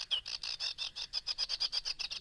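A sedge warbler sings with mimicry woven in, a fast run of scratchy, chattering notes repeating in quick rhythmic bursts, fairly close and moderately loud, with no talking.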